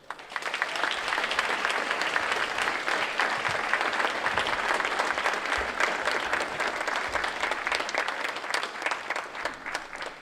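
A crowd claps steadily to welcome the healer Dr. Sebi at a Newlife Natural event, with dense, sustained applause holding at an even level for about ten seconds and no talk over it.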